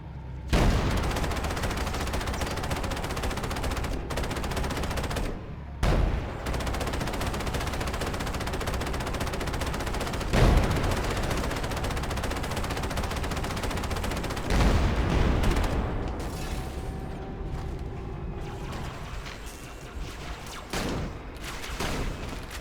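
Sustained gunfire in the Halo CE game as a shotgun is fired against an armored hovercraft, loud and continuous with repeated bursts and heavy blasts, no talk over it.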